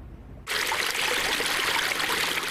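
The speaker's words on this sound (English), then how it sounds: "when you come to a fountain like this one here, you want to believe that the water you're drinking is safe." A public drinking water fountain switches on and runs in a steady splashing stream, starting abruptly after a short quiet moment and continuing loud and close.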